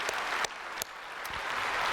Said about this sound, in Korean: 힘차게 박수합시다